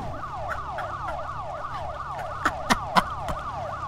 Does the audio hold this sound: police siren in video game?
yes